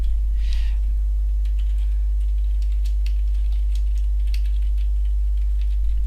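Keys tapping on a computer keyboard while Java code is typed, a quiet run of irregular clicks over a steady low electrical hum, no voices.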